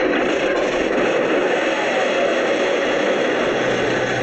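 Engine of a radio-controlled heavy machine, a model crane or DT-75 tractor, running in a bunker with a steady, dense mechanical roar that holds level throughout without pause.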